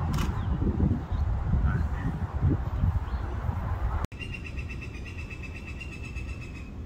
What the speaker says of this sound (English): Bird just taunting all of these things.